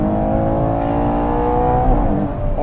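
A Ferrari Purosangue's naturally aspirated engine holds a loud, sustained rising drone, building steadily in pitch as it revs hard, with no talk over it.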